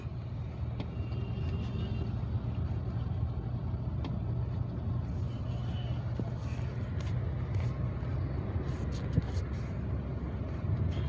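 Road traffic rolls across the Dewanhat bridge near New Market rail station, including a vehicle coming from Kaptai; a steady, loud engine and tyre drone fills the whole stretch with no single distinct pass-by.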